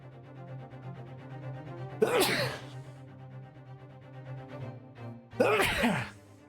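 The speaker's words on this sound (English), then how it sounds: "I have to sneeze." A person sneezes twice, each a sharp, close burst a few seconds apart, separated by a quiet stretch with faint background hum.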